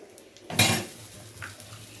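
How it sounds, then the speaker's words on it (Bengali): Whole cumin tempering stirred in a pan, then diced potatoes tipped in with one loud clattering splash and sizzle, followed by a softer scrape. "ফোড়নটাকে হালকা নাড়াচাড়া করে দিয়ে দেবো এর মধ্যে আলু।"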